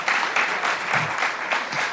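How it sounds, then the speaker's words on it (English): Audience applause at a tech happy hour party, steady dense clapping filling the room without a break for a couple of seconds. "Clap these guys down the aisle the opposite way."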